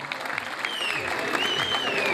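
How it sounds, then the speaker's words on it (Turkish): Applause from the crowd at an outdoor Turkish oil wrestling event, a dense burst of clapping mixed with an announcer's amplified voice over a loudspeaker. "Alkışlar elleriniz dar görmesin"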